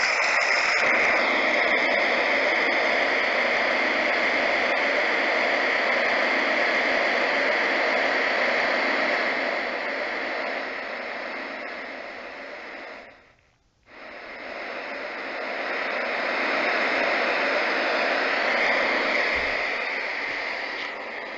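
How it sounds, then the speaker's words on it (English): A white noise machine plays steady broadband hiss, constant and fairly loud, with a brief dropout partway through before the noise resumes at similar level. "And then the last white noise."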